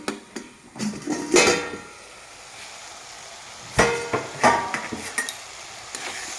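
A pot lid is set down and later lifted off a pan of masala being cooked down with water and chili powder for a potato and egg curry, giving a few sharp metallic clanks over a soft, steady sizzle.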